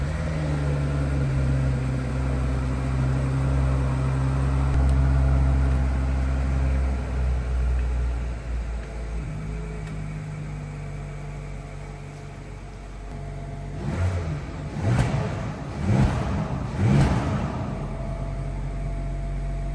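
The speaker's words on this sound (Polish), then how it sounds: "Posłuchać za to można już od razu wydechu." A 2025 Audi A6 Avant with a 3.0 TFSI V6 idles with a low steady exhaust drone, then near the end three or four sharp throttle blips rise and fall in quick succession.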